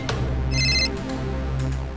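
A mobile phone ringtone sounds for an incoming call, a short bright electronic tone over a steady low hum in a Kannada TV serial scene.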